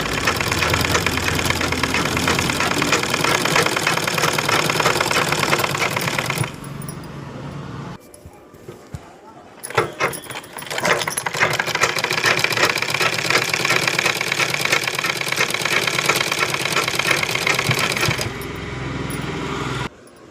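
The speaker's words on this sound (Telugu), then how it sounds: "బ్లౌజ్ స్టిచ్చింగ్ చేస్తున్నానండి" Electric sewing machine stitching a blouse, a fast rhythmic mechanical whirring in long runs that stop and restart, with brief quiet gaps and small clicks between bursts.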